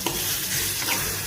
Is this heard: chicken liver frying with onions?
yes